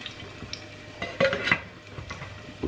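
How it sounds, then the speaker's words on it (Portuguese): Garlic fries in a pan, with a faint sizzle under scattered utensil scrapes and pan clinks from stirring. "já está o alho a fritar"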